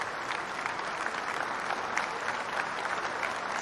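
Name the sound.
applause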